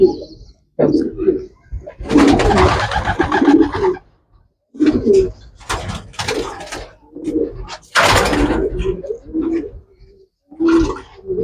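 Racing pigeons, eight to nine months old, coo repeatedly in soft, throaty bursts close by, with brief pauses between calls.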